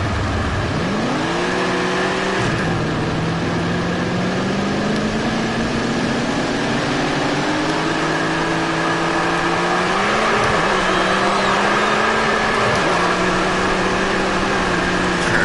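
Dirt race car engine in Tony Stewart's All-American Racing video game, revving steadily with rising and falling pitch as the car accelerates, loud and continuous throughout with no talking.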